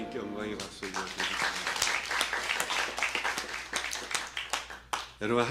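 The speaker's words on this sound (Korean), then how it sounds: "하나님께 영광의 박수 올려드립니다." A church congregation claps steadily and loudly for several seconds during a Sunday sermon, dense applause filling the room, with a voice briefly audible at the start and end.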